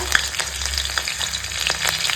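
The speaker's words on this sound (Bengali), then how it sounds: "এখন দিচ্ছি জিরে আর শুকনো লঙ্কা" Cumin seeds and dried red chillies crackle in hot oil with bay leaf in a kadai, a dense close sizzle with light spattering pops throughout.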